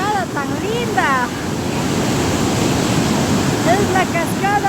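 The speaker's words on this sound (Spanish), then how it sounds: "Es la cascada Turno Facha 1, porque la otra era Turno Facha 2. Miren esa fuerza." Broad, steady roar of the Turno Fakcha waterfall near Oyacachi, a forceful rush of falling water heard close and continuous, with a voice speaking over it at the start and again near the end.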